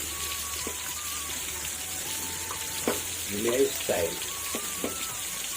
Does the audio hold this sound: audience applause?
no